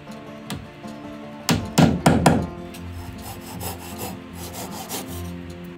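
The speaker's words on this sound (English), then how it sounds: "I fill the holes with the plug that I drilled in the beginning" Round Japanese cypress wooden plugs are tapped into drilled holes in cedar boards of a walk-in closet, giving a few sharp knocks in quick succession followed by softer rubbing and faint handling noise.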